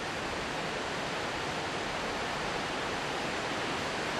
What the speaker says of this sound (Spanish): Vemos brotar el agua por numerosas surgencias, por muchos manantiales que brotan desde la misma roca